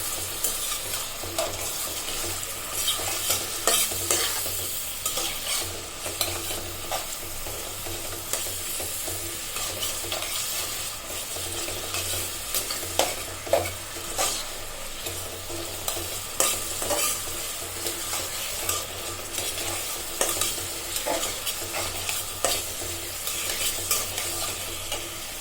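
A pan of shrimp, onion, garlic and green chili fries with a continuous sizzle, broken by repeated scraping stir strokes and light metallic clatter throughout, with no talking.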